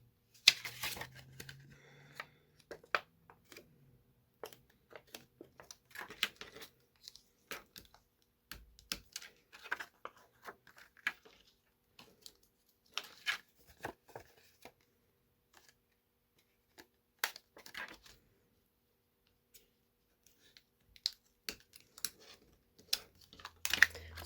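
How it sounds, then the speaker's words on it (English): A bone folder creases folded designer series paper for treat holders, with faint, scattered dry clicks and scraping taps in irregular bursts separated by quiet gaps. "we're just going to use our bone folder again to get a nice good crease on"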